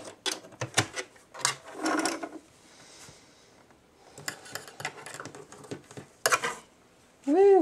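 A sewing machine stitches and backstitches a fabric mask in short whirring bursts separated by quiet pauses, close and moderately loud, with a brief tonal sound at the end.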